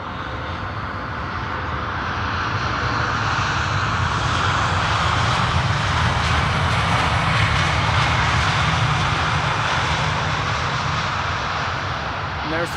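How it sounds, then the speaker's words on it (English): A Boeing 777 airliner arriving from Bangkok at Amsterdam Schiphol gives a loud, sustained jet roar that builds gently and holds for several seconds, with talk faintly beneath it. "there's the triple arriving from Bangkok"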